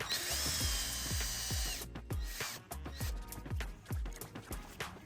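A power drill drives an HNT Wkret-Met self-tapping screw into a wooden terrace decking board, first with a steady high whine, then with a rapid series of ratcheting clicks as the screw seats. No one speaks.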